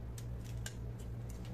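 Scissors snipping fabric for a shirt collar, a few light sharp cuts spaced irregularly over a steady low background hum.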